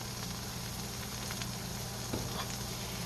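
Cheese frying in oil in a pan gives a steady, close sizzle and crackle that continues unbroken throughout, with no talking.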